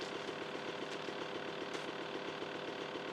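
A motorbike engine in GTA Vice City idles with a steady, quiet, rapid mechanical pulsing, unbroken for a few seconds and heard alone.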